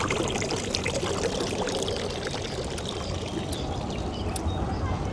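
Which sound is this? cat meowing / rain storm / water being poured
water being poured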